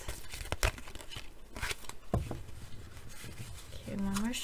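A deck of cards is shuffled in a few quick, papery riffles and rubs that come in short bursts, close and soft, with a voice faintly heard alongside.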